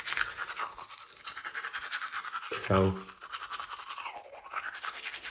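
Teeth being brushed with a Parodontax soft-bristle toothbrush: close, steady scrubbing strokes in a continuous rhythm, briefly interrupted by a short spoken word.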